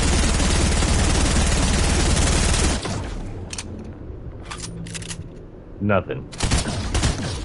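Sustained rapid gunfire in Fortnite aimed at Kevin the cube, a dense loud fusillade for nearly three seconds, followed by scattered single shots and short bursts with brief speech mixed in.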